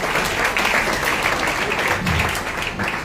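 A church congregation applauding together during a worship service, producing a dense, continuous wash of clapping that stays loud and even throughout, with no clear voices standing out.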